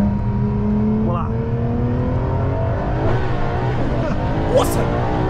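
A Ferrari LaFerrari engine pulls hard under full acceleration, its whine climbing steadily in pitch, heard loud and steady from inside the car with voices over it.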